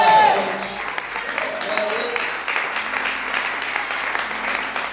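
Church congregation applauding the Lord at a service, a broad wash of clapping filling the room at moderate loudness after a brief shout.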